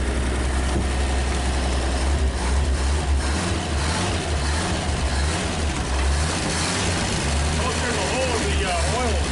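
A 1939 Chevrolet Master engine runs and the car moves after sitting for 48 years. A loud, low, uneven rumble continues throughout, with voices talking over it.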